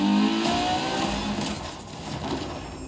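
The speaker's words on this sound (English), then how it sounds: "LaFerrari is the first Ferrari we have with an hybrid engine." Ferrari LaFerrari hybrid engine revving in The Crew Motorfest, a loud close engine drone that stays steady and then eases off slightly, with no voices.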